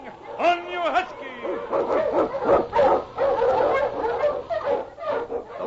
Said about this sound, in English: The Wonder Dog King, swiftest and strongest of Eskimo League dogs, blazes the trail through storm and snow